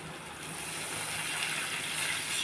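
Water pours into a cooking pot, a continuous rushing gush that swells slightly and stays fairly close and steady throughout.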